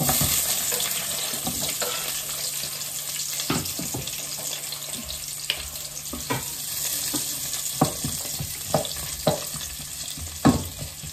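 Onion sautéing in a pan for sinigang gives a steady soft sizzle with occasional clinks and stirring knocks, fairly close and unvoiced.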